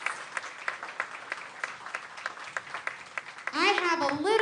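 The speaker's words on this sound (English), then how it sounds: "Let's give them a round of applause." An audience claps at a county junior fair king and queen coronation, steady moderate applause with distinct individual claps, before a voice begins speaking near the end.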